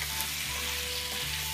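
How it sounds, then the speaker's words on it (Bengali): Zucchini frying with spices in a pan, a dense, steady close sizzle throughout this short moment with no talking. "মশলার সাথে ভাজতে হবে।"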